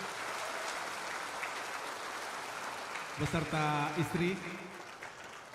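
Sustained applause fills a hall at the handover ceremony for the new Indonesian Minister of ATR/Head of BPN, Nusron Wahid; the steady crowd clapping continues while a voice speaks over it in the second half.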